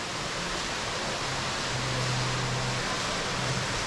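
Running water fills the lobby of the Akra Kemer hotel in Kemer, Antalya, Turkey, a steady, even rush of splashing with no breaks and no voices.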